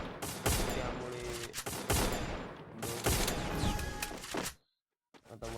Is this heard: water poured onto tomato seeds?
no